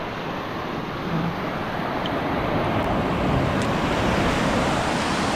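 Ocean waves washing onto a fine-sand beach at Casapsapan, Casiguran, Aurora, a steady broadband surf roar that holds close and loud throughout, with wind noise on the microphone.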